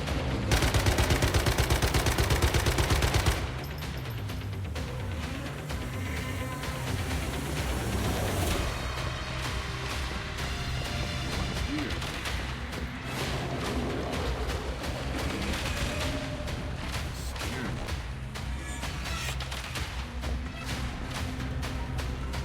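Gunfire in the survival shooter Once Human, a dense stream of shots over a rumbling, busy game soundscape, loudest in the first few seconds and then continuing steadily at a slightly lower level with no talk.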